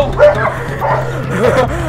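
A dog barks and yelps in short bursts while people talk over it close by, during a filmed attempt at facing a fear of dogs.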